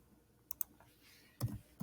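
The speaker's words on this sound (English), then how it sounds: "I'm going to type percent." Keys tapped on a computer keyboard while entering percentages into a Google Sheets spreadsheet: a couple of sharp, faint clicks early on, then two louder, fuller clusters of key presses near the end, in an otherwise quiet room.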